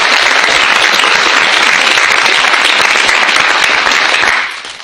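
An audience applauds to welcome Ratan Tata and Venkat at the MIT Tata Center, with loud, dense, sustained clapping that fades out at the end.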